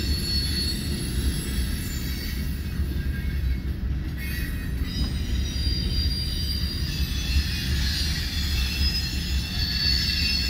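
A westbound freight train rolls past at Fremont, Nebraska, its steady heavy rumble joined by sustained high metallic wheel squeal that rises and falls throughout.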